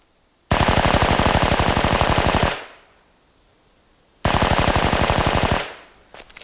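Two long, loud bursts of rapid automatic machine-gun fire, each lasting about two seconds with a dense rattling rhythm, separated by a short silence and ending abruptly, with no talking.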